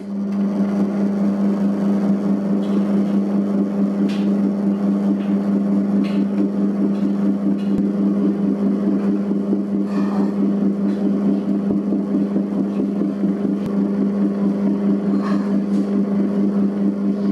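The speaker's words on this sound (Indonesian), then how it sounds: "Nyalakan mesinnya, langsung mengadon." A dough mixer kneads pandan bread dough with a steady, loud motor hum and a faint rhythmic churning underneath, running continuously with occasional soft knocks.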